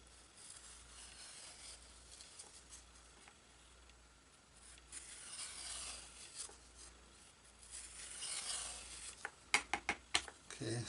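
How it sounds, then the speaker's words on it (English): Small hand sanding tool rubbing down the bevel of a balsa rudder for a Great Planes PT-20 float-plane model, a soft continuous scratchy rasp that builds and ends in a few louder strokes, close up. "the rest of it I'll sand down with my little sanding tool"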